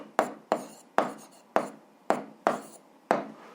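Seven sharp, evenly spaced taps of chalk or marker writing on a board, each a crisp knock with a short scratchy tail, heard up close in a quiet room with no talking.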